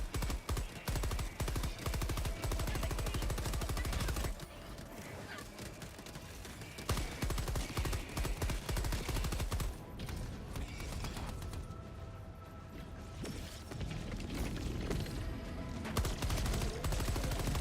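Gunfire in a video game plays throughout: dense, rolling volleys and rapid bursts that barely pause, with heavier clusters of shots rising and falling over a steady clatter.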